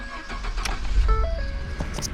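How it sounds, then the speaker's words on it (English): A Ford F-150 pickup's engine starting, a loud close cranking and catch that settles into a low idle rumble, with a brief electronic chime tone in the cab. "will start the truck."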